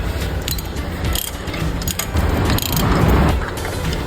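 A hand ratchet clicks repeatedly up close while loosening the spark plug coil on a car engine, with quick irregular bursts of mechanical ticking and metal rattling against a busy background.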